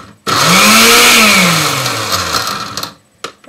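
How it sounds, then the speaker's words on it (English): Cheap low-quality kitchen blender whirring through chunky gazpacho vegetables, a loud motor drone that rises, sags and labors as the load shifts, then cuts off with a couple of short bursts at the end. "this is not a very good quality blender, so we'll see how this goes"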